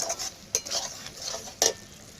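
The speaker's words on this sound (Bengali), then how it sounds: "ধনে গুঁড়ো হলুদ লবণ জিরে গুঁড়ো আর একটু সবটাই পরিমাণ মতো দিয়ে দেব দিয়ে এবারে খুব ভালো করে কষিয়ে নেব" Spices such as coriander, turmeric and cumin powder are stir-fried in a pan for a taro curry, with repeated scraping strokes of a spoon against the pan over a light sizzle.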